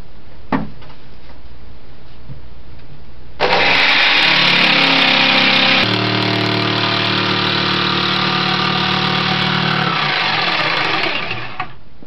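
A power tool cuts out a plywood coaming ring for a boat build. It runs loud and steady for several seconds, its pitch dropping partway through, then winds down, with no talking.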